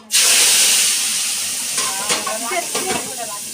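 Hot ghee tempering for spiced rice hits a pan and erupts in a loud, close sizzle that slowly settles into steady frying, with a few brief voices murmuring over it near the end.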